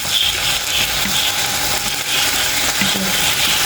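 Samosa filling of minced meat with spring onion frying with chili sauce in a pan: steady loud sizzle with scraping stir strokes throughout.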